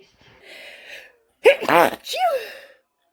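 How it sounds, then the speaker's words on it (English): After a soft breathy inhale, a person lets out a sharp, loud sneeze up close, followed by a brief voiced trailing sound. "So yeah, a lot of sneezing."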